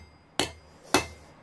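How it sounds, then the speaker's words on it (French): A blacksmith's hammer peen strikes a hot metal leaf stem during forging, giving two sharp, close metallic blows, each with a short ringing decay, plus the start of a third. "je viens au début frapper avec la panne pour"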